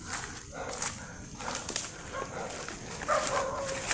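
A dog barks a few times at a distance, faint and intermittent, amid soft outdoor background noise.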